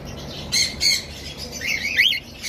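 English budgerigars in a breeding setup squawk and chirp close by, with a few sharp bursts early on and a rising, warbling call toward the end, over a steady background hiss.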